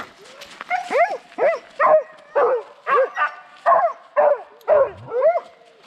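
Excited sled dogs harnessed to pull scooters along a leafy autumn trail bark and yip in a rapid series of about ten high, rising yelps, loud and close.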